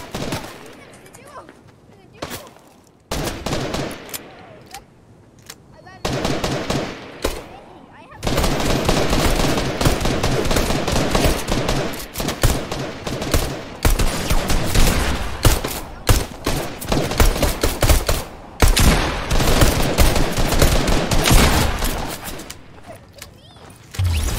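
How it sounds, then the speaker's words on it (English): Rapid bursts of automatic gunfire in Fortnite, loud and repeated in clustered volleys that stop and start across the stretch, with players' voices talking in between. "If someone just shot at me."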